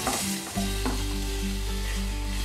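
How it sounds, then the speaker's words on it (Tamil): Onions and tomatoes sautéing in a pan for sambar, a steady close sizzle with a couple of stirring knocks over a constant low hum, no talk. "இதையும் சேர்த்து நல்லா வதக்கிக்கலாம்"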